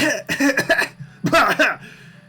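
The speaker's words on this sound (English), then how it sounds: "Dreg coughs weakly." A storytelling narrator performs a weak, rasping cough as a character, two short hoarse bursts separated by a brief pause, close and fairly loud.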